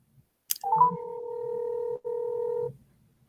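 Telephone tones during a phone call: two long, steady electronic tone bursts, clear and alone, separated by a brief break, then silence.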